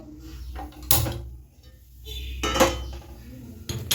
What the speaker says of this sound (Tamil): இப்போ ரசம் தாளிக்க போகிறோம்.